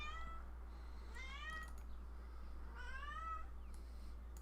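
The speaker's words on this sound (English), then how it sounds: "Oh man, my cat." A house cat meows twice, two drawn-out rising cries about two seconds apart, fairly faint over a steady low hum in a quiet room.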